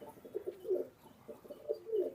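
Imported Teddy pigeon cooing in soft, low repeated phrases, two bursts of rolling coos close by with a brief pause between, no talking.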